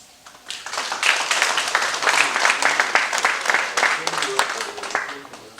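A room of people at a flag-bearers' day ceremony breaks into applause, steady and dense for several seconds, with a few voices murmuring underneath before it fades.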